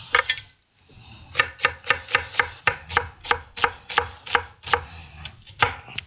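Knife steadily chopping a red onion into thin slices on a cutting board, with about fifteen crisp, evenly spaced strokes, close and clear, no talking.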